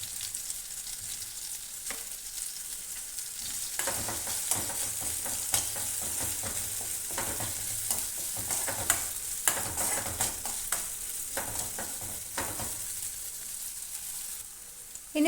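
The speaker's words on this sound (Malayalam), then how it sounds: "ഇനി ഇഞ്ചിയുടെ പച്ചമുളകൊക്കെ ഒന്ന് മാറുന്നത് വരെ ഒന്ന് വഴറ്റി കൊടുക്കാം" Ginger and green chilies sauté in a hot pan for ginger pachadi, a steady close sizzle and frying hiss with stirring clinks and scrapes throughout, and no voices.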